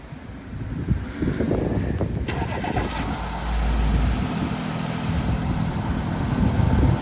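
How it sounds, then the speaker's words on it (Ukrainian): A 2017 Audi A6 Allroad 3.0 diesel with 321,000 km runs outdoors, a low steady engine rumble partly masked by wind buffeting on the microphone, with a brief rattle early on. "Ну що, мотор робить нормально, помилок немає ніяких по діагностиці."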